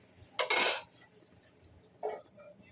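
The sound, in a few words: lid being put on a cooking pot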